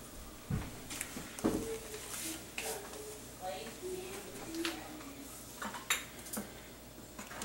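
A fining agent is stirred slowly into a bucket of homemade wine: a spoon clinks and scrapes against the container in irregular taps, with a low voice murmuring faintly underneath.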